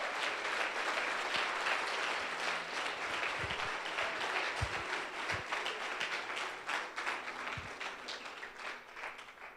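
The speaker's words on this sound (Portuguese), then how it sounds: "Vamos dar uma salva de palmas para o Senhor." A church congregation at a Feast of Tabernacles service claps in dense, lively applause with a few low thumps. It gradually thins and softens toward the end.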